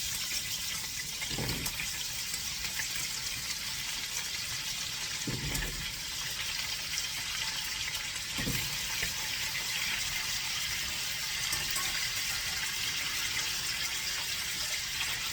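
Quince cooking liquid pours steadily into a kitchen sink, a constant splashing water rush with a few faint knocks and clunks now and then, no one speaking.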